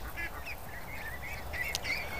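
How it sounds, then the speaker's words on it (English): Young Muscovy ducklings peep and quack in a steady string of thin, high calls over a soft background hum, close by, with no talking. "Some of them are really starting to quack."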